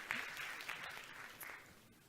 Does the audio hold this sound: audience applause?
yes